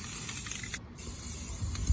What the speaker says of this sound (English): As you can see while I'm spraying, I'm getting good coverage